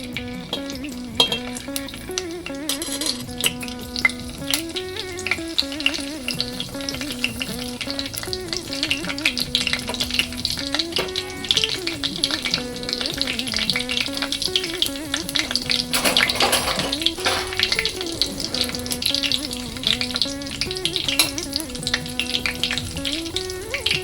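A bay leaf, cinnamon and salt sizzle in hot oil in a pan as the start of a sprouts pulao, a steady close crackling fry that runs continuously with a few brief stirring scrapes, no voices.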